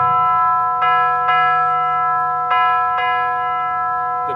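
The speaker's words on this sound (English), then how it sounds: "The bell invites me." A bell rings on a theatre stage during a performance of Macbeth, four clear sustained strikes in two pairs, each tone ringing on and overlapping the next, loud and close with no voices.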